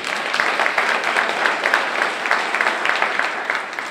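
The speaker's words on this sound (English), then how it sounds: "give that a round of applause" A crowd applauding, dense steady clapping for a few seconds at a loud, even level.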